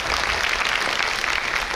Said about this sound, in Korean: 다시 한 번 더 멋진 기조강연을 우리 해주신 남원호 교수님께 박수 부탁드리겠습니다